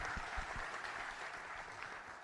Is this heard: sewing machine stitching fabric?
no